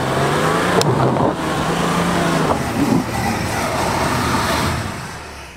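A Jeep Grand Cherokee SUV accelerating hard off-road, its engine roaring steadily and loudly throughout, with a brief sharp knock near the start and faint voices underneath.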